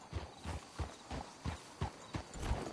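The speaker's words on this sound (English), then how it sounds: "Let's hitch the horses up ahead." Horse hooves clip-clop in a steady walking rhythm in Red Dead Redemption 2, about nine even beats of the hitched horses, with a faint whinny near the end and no talking.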